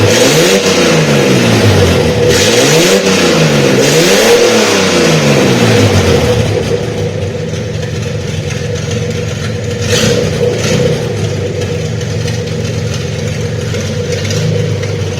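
A 1971 Datsun 240Z series 1 engine revs hard several times right after its first startup in over 20 years, rising and falling loudly up close before settling into a steady, slightly uneven idle.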